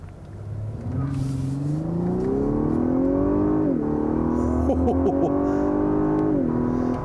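A 2021 Lexus LS 500 twin-turbo V6 luxury sedan accelerates, its engine hum rising smoothly through the gears with a couple of brief dips at shifts, heard fairly clear from inside or near the car.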